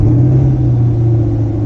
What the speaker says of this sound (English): We're going to do some remote start